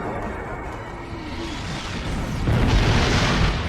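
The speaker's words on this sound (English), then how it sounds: "The heralds are firing on the portal!" In the space game Star Trek Online, herald ships fire weapons at a time portal, producing a sustained rumbling roar of booms and energy bursts that swells louder near the end, with no talking.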